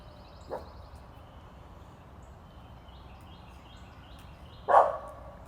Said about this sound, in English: I think she's barking at a rabbit in the woods behind us.